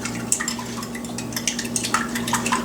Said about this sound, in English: now we're going to give that a good whisk